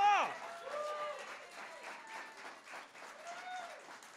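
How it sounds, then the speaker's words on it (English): A live audience applauds a guest at a show, a brief spatter of clapping that dies down quickly, with voices talking over it. "Give him a round of applause."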